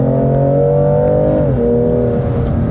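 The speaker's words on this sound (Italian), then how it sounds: "Io non ho veramente parole di quanto è cattiva in erogazione sta macchina qua." A BMW M2 Competition engine revs hard under acceleration, a loud, steady harmonic roar that dips briefly in pitch as it shifts, then keeps pulling strongly, close up and with no talking.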